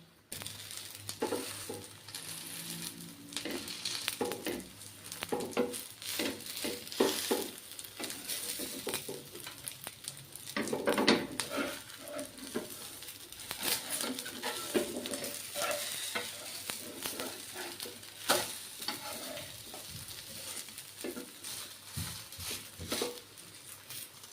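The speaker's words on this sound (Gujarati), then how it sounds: "આપણે આને મીડિયમ ગેસ ઉપર પાકવા દેશું" Rava uttapam sizzles in a pan over a medium gas flame, a steady frying hiss broken by close scraping and stirring clatter for the whole stretch, with no voices.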